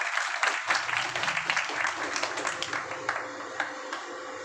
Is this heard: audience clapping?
yes